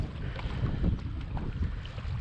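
Headwind gusting over a kayak on the California Delta during bass fishing with an incoming tide, a continuous low rumbling buffet of wind against the microphone with faint water sounds, no talk.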